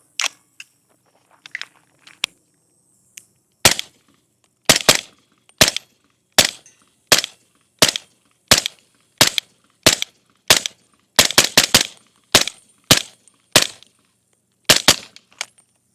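A 300 Blackout rifle firing 220 grain ammunition lets off a string of sharp, fairly suppressed-sounding shots at a steady pace, some in quick pairs, with a few quiet clicks and handling noises before the first shot.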